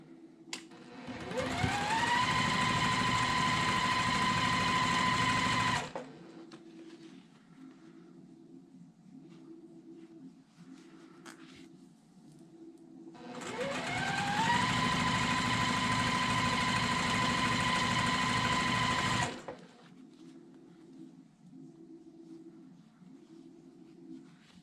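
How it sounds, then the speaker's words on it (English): A sewing machine runs through two long bursts of about four seconds each while stitching a quarter-inch quilting seam, its motor whirring up to speed and stopping, with a quieter rhythmic mechanical ticking between runs. "let's go ahead and start sewing that together"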